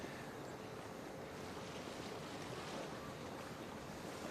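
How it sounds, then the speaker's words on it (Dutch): Wind and waves during a skûtsje sailing race in Friesland, a steady, full roar of gusting wind and rushing water, likely heard from a boat, with no voices. "en het waait aardig"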